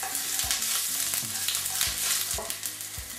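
Minced garlic and ginger sizzling in a hot pan for garlic ginger chicken, a constant close frying hiss broken by repeated scraping stirs of a utensil against the pan.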